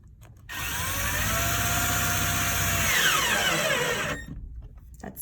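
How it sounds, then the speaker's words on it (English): A power drill whirs steadily for several seconds while driving a screw into a wall-mounted vanity frame, its pitch dropping and straining as it drives in, then cuts off abruptly. "you will drill it down into the frame"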